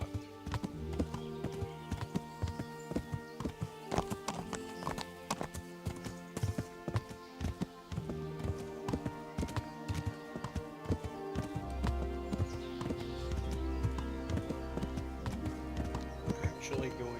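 Rhythmic hoofbeats of a horse cantering clatter steadily in the game Kingdom Come: Deliverance, with an occasional whinny and game music layered underneath.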